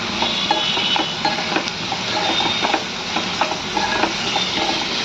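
Onions and tamarind frying in oil in a pan, a dense continuous sizzle with light crackles and soft stirring scrapes, close and steady, no voices.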